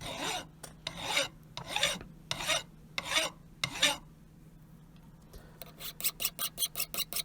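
A file rasps in repeated hand strokes across the steel head of a Punch Lok hammer being restored, each stroke clear and close, ending with a run of quicker, shorter strokes.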